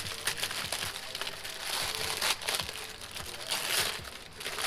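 Packaging crinkles and rustles loudly as restored car engine parts are unwrapped, giving irregular crackling crunches with no pauses and no voices.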